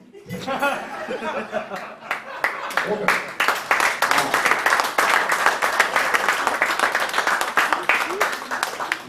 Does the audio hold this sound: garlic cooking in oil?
no